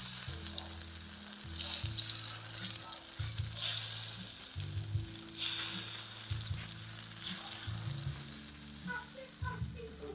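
Takoyaki batter sizzles steadily in a hot takoyaki machine, a continuous close frying hiss with faint stirring clicks near the end and no talk.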